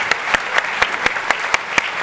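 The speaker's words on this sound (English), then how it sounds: "We'll give them all a clap." At a summit plenary panel, the audience claps for the panelists in a strikingly regular beat, sharp evenly spaced claps about four per second standing out over a softer wash of applause.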